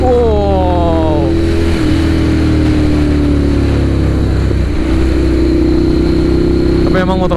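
A Ducati Monster 795 motorcycle engine drones loudly and steadily on a test ride, its pitch rising as the rider accelerates. Wind rushes over it throughout.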